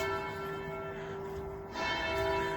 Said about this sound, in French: Petite cloche, je sais pas d'où elle vient.